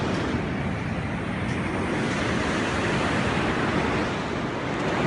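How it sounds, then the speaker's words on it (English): Rough surf on Newcastle beach in Australia crashes and rushes in a continuous loud wash, with wind buffeting the microphone and no voices. "So we have the raging ocean on one side"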